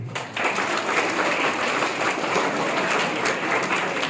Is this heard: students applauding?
yes